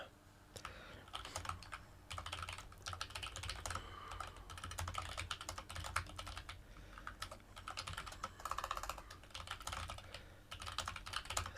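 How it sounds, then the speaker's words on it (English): Steady computer keyboard typing, close and clacky, in rapid bursts of keystrokes with short pauses, no talking. "Some keyboard clacking ASMR there."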